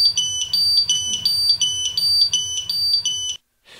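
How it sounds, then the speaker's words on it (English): A Ventis MX4 gas detector in high alarm gives a rapid, urgent pulsing of shrill beeps, about nine evenly spaced bursts, loud and close, before cutting off. "For a high alarm, the rate of the alarm pulsation becomes more urgent."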